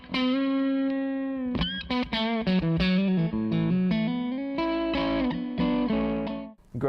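A Zander Circuitry Cafetiere V3 fuzz pedal at low gain, about halfway, with some clean signal blended in, colors a sustained electric guitar phrase. Loud, continuous notes and chords sound mildly fuzzy rather than heavily overdriven, with no voices.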